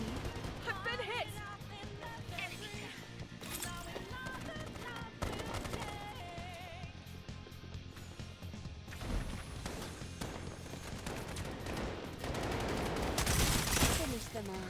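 Bursts of rapid automatic gunfire and heavy shots in the shooter game Strinova, loud and repeated, mixed with in-game voice lines and impacts.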